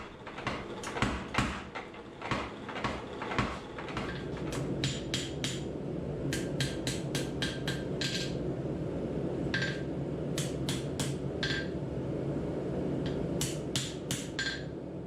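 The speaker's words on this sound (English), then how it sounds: "starting on the power hammer and then moving to the anvil with a small hammer for better" A small hammer straightens a forged hidden-tang belt knife blade on an anvil, following work on a power hammer: sharp, ringing metallic strikes fall in irregular bursts and quick clusters over a steady low mechanical hum.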